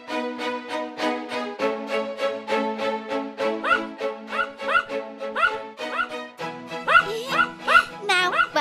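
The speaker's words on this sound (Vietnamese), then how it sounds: "Dũng, em có thể bảo con cúng ngừng sủa không?" Cartoon dog barking and yipping in a Vietnamese animated folk tale, a rapid run of repeated close yaps with whimpering pitch sweeps, layered over a continuous musical or vocal tone bed.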